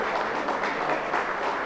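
Audience clapping for professor Luis Núñez at a tourism talk in Puerto Plata, a soft, even patter of applause heard from a slight distance.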